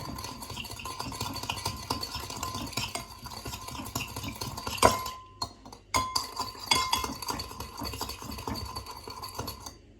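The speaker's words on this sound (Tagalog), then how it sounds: "hahaluin lang natin hanggang sa matunaw lang yung sugar" Soy sauce and sugar being stirred with a utensil, a steady run of scraping and clinking against the bowl with a brief pause midway, close and fairly quiet.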